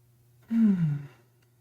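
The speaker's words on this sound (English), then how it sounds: "Oh, I find myself just deep breathing again." A single deep breath, a slow audible sigh-like exhale lasting about half a second over a low steady hum, close and alone, taken during a calming gemstone therapy relaxation session.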